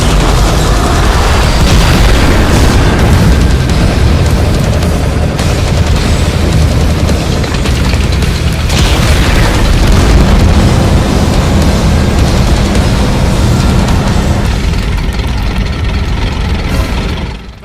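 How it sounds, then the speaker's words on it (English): Artillery fire in a video game rumbles as a dense, continuous roar of overlapping booms and blasts, loud and sustained with no gaps. "Artillery, fire!"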